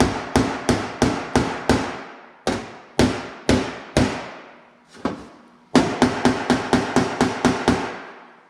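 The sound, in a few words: hammering a dent out of a metal fender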